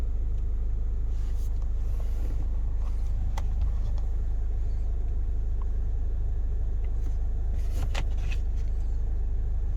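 Steady low engine and exhaust rumble from a car fitted with an oil catch can fills the whole stretch during a noise measurement, with faint clicks and road noise over the drone.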